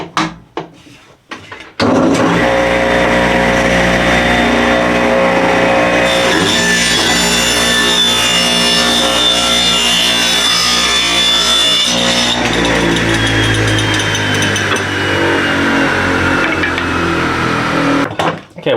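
A wooden board for a beginner picket fence project is cut to 1 1/4 inches with a power saw, one continuous loud, steady cut running about sixteen seconds after a brief start and ending abruptly.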